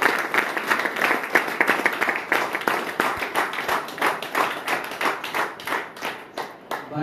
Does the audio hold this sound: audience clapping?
yes